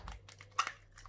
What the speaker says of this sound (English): So I'm just going to crack in 1 egg.